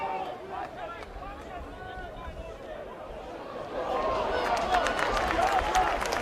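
A rugby league crowd at the Workington Town vs Doncaster League One play-off final applauds. A distant murmur swells into fuller clapping and cheering partway through, under a commentator's voice.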